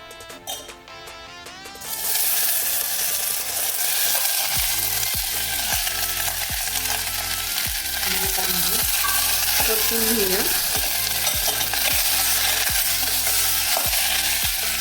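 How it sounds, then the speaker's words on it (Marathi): Green chilies and potatoes stirring and frying in a pan for a Maharashtrian fasting potato dish, with a steady close sizzle and repeated scraping strokes of a spoon against the pan, beginning after a brief quieter stretch. "मिरची छान परतली आहे आता आपण त्याच्यात बटाटा घालूया"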